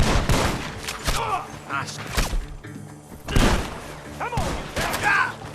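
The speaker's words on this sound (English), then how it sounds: "The gunshots are coming from that barn" Gunfire crackles from a barn in Red Dead Redemption 2, several sharp shots and thuds spread across the scene under shouted game dialogue.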